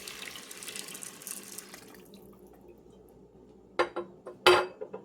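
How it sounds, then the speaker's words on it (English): Water runs into an Instant Pot of rinsed beans, a steady soft stream through the first half, followed by a few sharp splashes and clinks near the end as the pour finishes. "I'm going to add in 6 cups of water."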